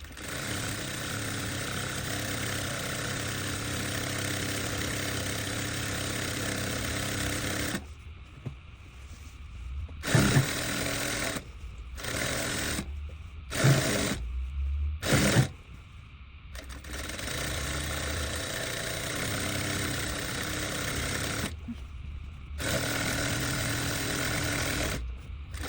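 A sewing machine runs a 5 mm seam without backstitching on bedding fabric for a duvet cover or pillowcase, steady mechanical whirring in several bursts broken by short pauses, close and fairly loud.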